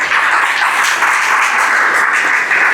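A church congregation breaks into loud, sustained applause during a sermon, many hands clapping in a dense even wash that holds steady throughout without any talking.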